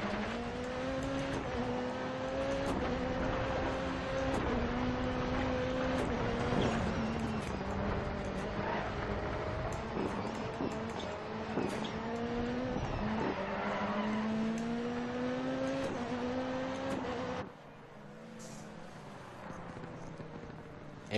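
Engine drone with tires squealing through a skid as a rally car slides around a handbrake turn in the video game Dirt 4, then the engine note drops away.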